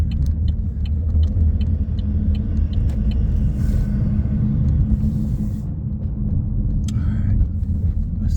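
A Chevrolet Malibu with a 1.5L turbo engine and its muffler removed runs at a steady idle, a loud, deep, continuous rumble with a few light clicks on top.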